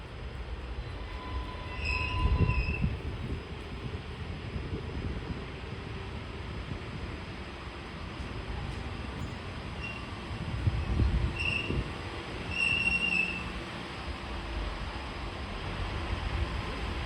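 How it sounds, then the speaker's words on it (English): A Class 230 diesel battery train creeps slowly toward hydraulic buffers at the end of the Borderland Line, giving a steady low rumble with faint wheel squeals and light swells of louder running; no voices. "a diesel battery Class 230 arrives, making a very cautious descent towards the hydraulic buffers"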